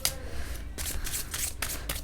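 Tarot cards being shuffled in repeated riffling bursts, close and fairly loud, with no talk over them.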